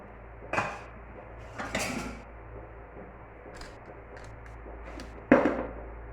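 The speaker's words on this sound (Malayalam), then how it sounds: "അപ്പോൾ നമുക്കിത് ഇതാ ചട്ടി ഒക്കെ നീക്കി വെക്കട്ടെ" Someone slides an earthenware clay cooking pot aside in a home kitchen, giving a few scattered scrapes and clunks, with a sharper knock near the end, all fairly quiet.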